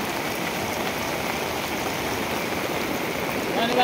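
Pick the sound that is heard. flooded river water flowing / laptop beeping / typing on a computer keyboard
flooded river water flowing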